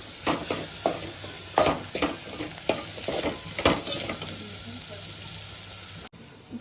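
Ginger garlic paste sizzles in a hot pan while a spoon stirs it, giving a series of rhythmic scraping strokes over a constant frying hiss that fades toward the end.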